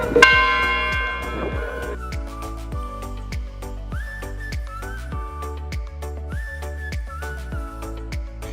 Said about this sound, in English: As we found out, the bell tower is still working.